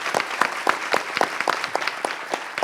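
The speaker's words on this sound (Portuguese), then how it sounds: "Vamos aplaudir eles." A small audience at a business summit claps in a light, evenly paced rhythm, a few distinct hand claps repeating for a couple of seconds.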